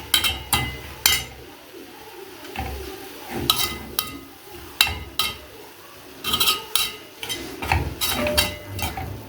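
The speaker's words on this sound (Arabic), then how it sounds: "نبدا نقلب لحد ما البصل يستوي جوه اللحم" Minced meat and onions are stirred in a pan, a spoon scraping and clinking against the metal in irregular, close taps over a low sizzle, continuing steadily throughout.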